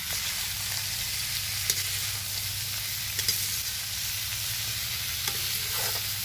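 Tinda (apple gourd) frying in a pan during village cooking, with a steady, even sizzle throughout and occasional sharp scrapes and clicks as a spoon stirs the pieces.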